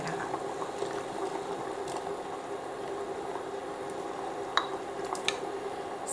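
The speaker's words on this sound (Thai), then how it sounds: "เมื่อน้ำเดือดแล้วนะคะเราก็ตักข้อไก่ลงไป" Water bubbles at a steady rolling boil in a pot of chicken knuckles for Thai tom yum soup, a continuous gurgling hiss with a couple of faint clinks.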